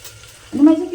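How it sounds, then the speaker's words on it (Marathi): Tempering hitting hot oil in a pan for a vegetable dish in a home kitchen, a sudden sizzling burst halfway through that follows a quiet start, with a tonal hum under it. "मी करते फोडणी भाजीला"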